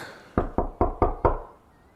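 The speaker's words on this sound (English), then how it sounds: "Answer the door, Dimitri." Five firm knocks on a door in an even rhythm, close and crisp, followed by quiet.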